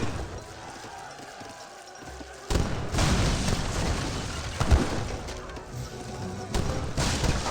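Falconet artillery fires in Age of Empires 3 during a battle: heavy booms and crashing impacts arrive in separate bursts, with a commentator talking over the noise.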